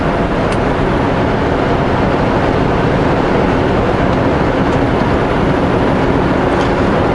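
A CN freight train passes near the Coquihalla highway, heard from a truck cab as a loud, steady, rumbling roar that holds for the whole stretch, with no voices.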